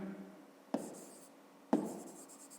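A pen or pencil writes on paper during a fifth-grade maths exercise, with two short, distinct scratching strokes about a second apart, each followed by quieter trailing scribbles.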